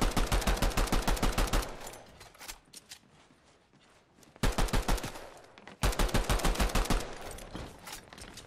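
Rapid automatic gunfire in Fortnite, loud and close, bursts of fast cracking shots separated by quieter stretches of fainter distant fire and faint footsteps.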